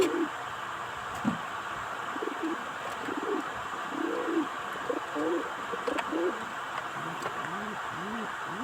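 Pigeons coo repeatedly in low, rounded calls at close range, with steady background hum and a voice speaking intermittently.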